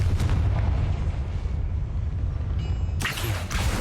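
A Confringo fire spell explodes in Hogwarts Legacy with a loud, rumbling blast, then a sustained low roar and crackling debris, ending in a sharp burst of noise near the end.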